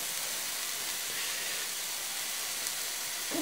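Hot branding iron sizzling on a well-cooked steak, a steady bright hiss held throughout at moderate level.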